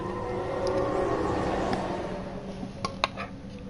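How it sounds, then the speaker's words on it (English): Monorail in the video game Mass Effect Andromeda gliding along, a steady droning hum with a high whine, plus a couple of light clicks near the end. "Well, the monorail."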